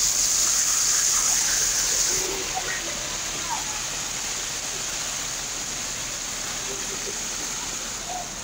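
Floodwater rushes across the flooded Regalado Highway, where jeepneys sit stranded: a loud, steady broadband roar like a waterfall that eases slightly after the first couple of seconds and then continues unbroken.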